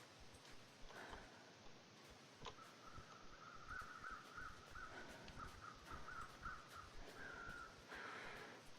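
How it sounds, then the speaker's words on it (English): Crows caw in a series of brief, repeated calls inside the video game The Sonk Dark, sounding fairly distant above a faint rustling ambient wash, with a couple of sharp ticks. "Where are those crows? Where are they?"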